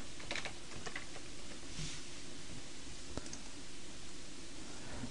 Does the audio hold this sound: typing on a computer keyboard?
yes